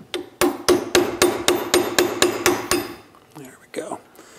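A hammer drives a punch to stake a bolt on an axle during electric vehicle conversion work, striking about ten sharp, evenly spaced metallic blows close by, followed by a few softer knocks and shuffling.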